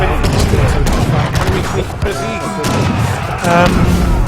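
Dense, rumbling volleys of cannon and gunfire roll continuously through a busy Age of Empires III battle, with booms stacking over one another.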